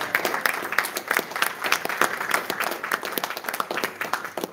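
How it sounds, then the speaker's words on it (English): A small crowd at a Fitzpatrick clan gathering claps in an uneven, steady patter of close hand claps that holds for several seconds with no speech over it. "Can I get a round of applause for her?"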